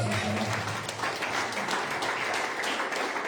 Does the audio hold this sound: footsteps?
no